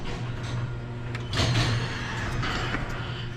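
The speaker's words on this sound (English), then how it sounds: "There goes the door." Garage door moving on a farm, a low motor hum with rattling and scraping bursts, fairly close and continuous, no speech.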